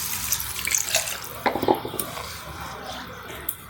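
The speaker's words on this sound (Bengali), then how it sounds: "এবার জল দিয়ে ভিজিয়ে রাখবো।" Water runs from a tap and is poured over rice in a pot to soak, close splashing and gurgling in short bursts with a few clinks of the vessel.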